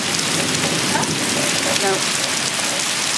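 Steady rain pours on surfaces during a summer thunderstorm in Apex, North Carolina, a dense continuous hiss filling the scene with no thunder standing out.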